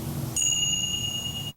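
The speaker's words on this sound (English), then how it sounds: "pausing for chimes between each one" At a campus memorial prayer service, a single bright chime strikes and rings on with a steady, sustained tone over a low room murmur, then cuts off abruptly.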